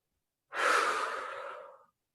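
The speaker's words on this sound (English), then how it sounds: "Inhale slowly for the count of 3. Exhale to the count of 1." A single slow, steady breath during a yoga flow, a soft airy rush lasting over a second that fades gradually, close and quiet against silence.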